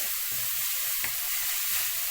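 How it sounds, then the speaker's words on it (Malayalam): Gooseberry stir-fry for Kerala nellikka thoran frying uncovered on a low flame, with a steady soft sizzle and a few faint crackles throughout. "ഇതിന് ചെറിയ തീയിലിട്ട് നമുക്ക് കുറച്ചധികം നേരം ഇങ്ങനെ ഫ്രൈ ചെയ്തെടുക്കാം"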